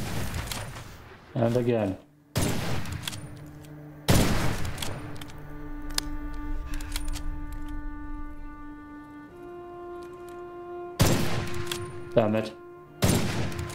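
Single loud gunshots from a gun in Witchfire, several separate blasts spaced a few seconds apart over ringing tonal music, with someone speaking briefly between shots.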